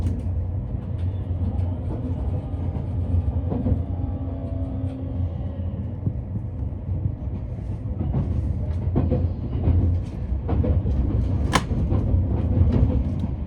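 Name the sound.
Kintetsu limited express train running through Nishikujo station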